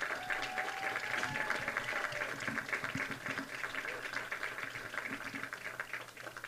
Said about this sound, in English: Let's give them one more final round of applause.